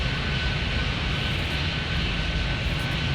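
Jet aircraft engines roar at Chicago O'Hare International Airport, a loud, steady wash of broadband engine noise with no breaks or voices.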